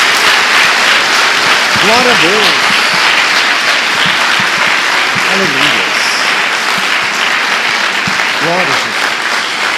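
A church congregation claps steadily in praise of Jesus during a worship service, a dense, sustained patter of many hands close by, with a voice calling out over the clapping.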